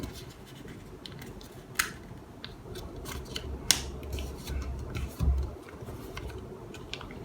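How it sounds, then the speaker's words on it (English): Paper being creased and folded into an origami crane gives soft scratchy rustles and a few sharp crisp snaps, close up, with no talking. "The paper is going to get harder and harder to fold, so press hard"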